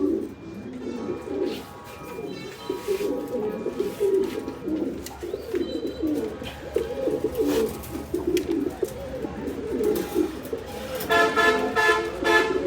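Pigeons coo softly among other birds at a fancy pigeon sale, with nearby chirps, passing traffic and a few car horns tooting in the background.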